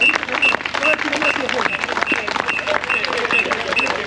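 An audience claps in a steady ripple of applause during a water rescue demonstration in Kerala, while someone talks loudly over the clapping throughout.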